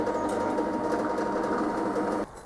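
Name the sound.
drill drilling pilot holes through metal casting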